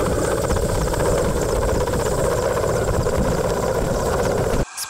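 A rescue helicopter roars loudly and steadily overhead during a rescuer descent drill, its rotor thump and engine whine filling the clip before cutting off abruptly near the end.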